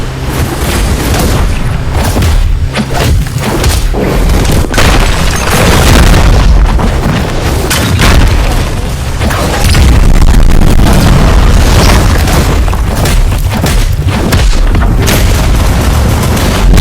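Repeated booming punch impacts from a Roblox fighting game, loud and dense bursts throughout with no pauses, thumping low hits stacked over one another.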